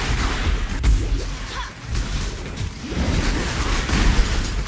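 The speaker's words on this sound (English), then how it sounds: "Get some pretty nice explosions" Crackling Lance spell explosions in the action RPG Path of Exile, a continuous stream of dense booming bursts and crackles filling the scene at steady loudness, with no speech over them.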